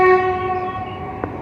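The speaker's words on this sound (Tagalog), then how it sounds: "Ang ingay naman ng train." A train in Bangkok sounds a long, steady horn blast that holds for over a second, with rail noise rumbling beneath it near a forest park.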